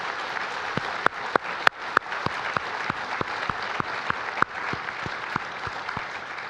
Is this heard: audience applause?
yes